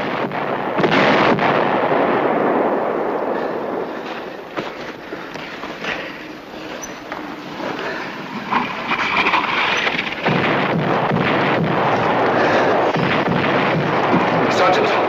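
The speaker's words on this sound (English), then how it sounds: "American artillery starting its barrage." Sustained American artillery barrage in a 1963 war drama: a dense, continuous roar of overlapping booms and rumbling fire, loud and steady throughout with occasional sharper blasts.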